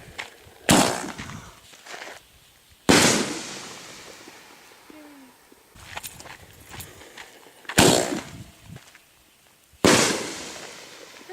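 A nighttime fireworks show sounds as sharp, loud booms spaced a couple of seconds apart, each trailing off into crackle and rumble, with faint crowd sounds in between.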